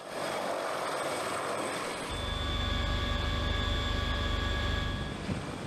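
A CH-53K heavy-lift helicopter flies with a steady engine whine that gives way to a loud, deep, rapid rotor thump after a couple of seconds, sustained and close.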